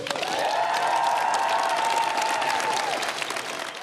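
Sustained outdoor applause from a crowd for a departing prime minister walking to the gates, dense steady clapping mixed with a few cheers and a faint voice underneath, holding loud throughout.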